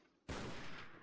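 Gunfire in a video game, a sudden loud burst of rapid shots that starts abruptly and rolls on as a dense crackle for under a second, with no talk over it.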